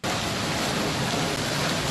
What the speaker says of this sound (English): This is the biggest summer rain I've ever experienced in Beijing.